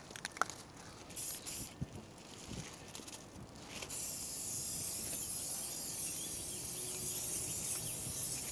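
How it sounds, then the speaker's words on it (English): Spray paint hisses from a can outdoors on a windy day, first in short bursts amid handling clicks, then as a long steady spray. "I can't even spray this, 12 inches away without it blowing off to the side."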